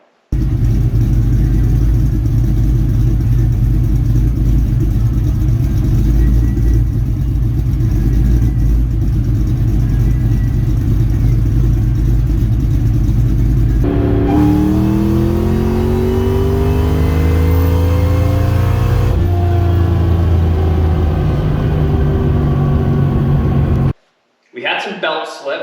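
A supercharged 2003 Ford SVT Cobra, suffering belt slip and boost drop, roars loudly under steady load, then its pitch sweeps upward through several rising revs before cutting off abruptly near the end.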